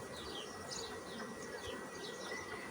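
Honeybees buzz around a hive frame and divider board, a low steady drone from many bees close by, quiet with no voices.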